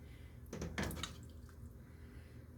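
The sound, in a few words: water rinsing meat at sink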